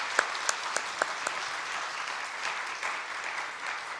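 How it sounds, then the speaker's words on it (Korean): A congregation at an early-morning Monday church service claps together, a few sharp distinct claps at first giving way to a steady, moderately distant wash of applause in a large room. "박수 한번 합시다."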